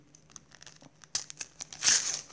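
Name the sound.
tearing open a Panini World Cup 2018 sticker packet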